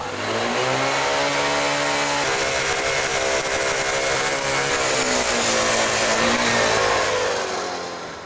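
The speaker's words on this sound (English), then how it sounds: "So it's back to the cutoff saw." A loud, steady cutoff saw whines and grinds continuously through a cast aluminum engine block, its pitch dipping slightly under load.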